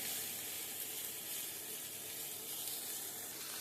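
Flat beans with green chillies and salt frying in a pan, a faint, even sizzle with a watery hiss running steadily for a few seconds, no voices.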